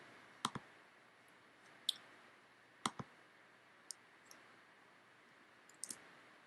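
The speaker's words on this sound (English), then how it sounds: "you go ahead and click this button and voila, it's done" Computer mouse button clicks, small sharp ticks scattered unevenly with some in quick pairs, very faint against a quiet room hiss.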